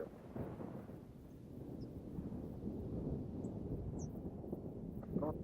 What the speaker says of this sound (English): Oh, thunder.